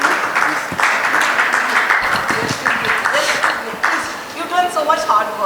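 Conference audience applauding a guest from Zimbabwe at a trade conclave in Mumbai, a broad wash of clapping that holds steady throughout, with a voice speaking over the top of it.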